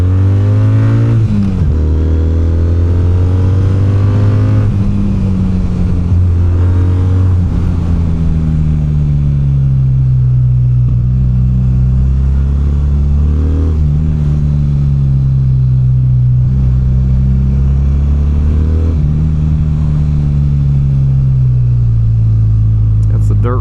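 Kawasaki W800 motorcycle ridden on the road, a loud steady parallel-twin engine drone that rises and falls through gear changes, continuous throughout.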